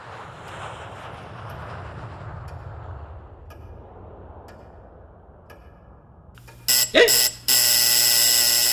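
After a stretch of low rumbling hush, a harsh electronic buzzer blares abruptly in loud bursts, a short one, a break, then a long sustained tone.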